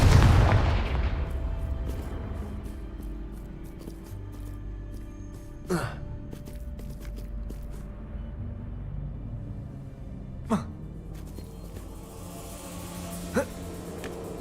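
Fiery Confringo spell blasts in Hogwarts Legacy: a heavy boom at the start, then three sharper explosive cracks spaced several seconds apart over a low, rumbling game backdrop.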